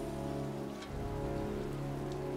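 Steady pouring rain drenching a cemetery in the video game Heavy Rain, a dense continuous hiss of drops on surfaces with a low rumbling undertone, constant and enveloping throughout with no voices.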